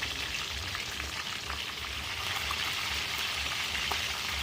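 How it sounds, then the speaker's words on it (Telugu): Eggplants sizzle and crackle steadily in hot oil while being stirred, a constant dense frying hiss with faint clinks, close and even throughout, with no voices. "నూనె వేడెక్కిన తర్వాత మనం వంకాయలను అయితే ఈ నూనెలో వేసేసి అటు ఇటు కలిదిప్పుకుంటూ ఉండాలండి"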